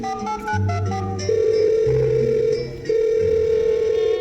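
A telephone call goes out and a steady electronic ringing tone sounds on the line, loud and continuous, with no talk over it.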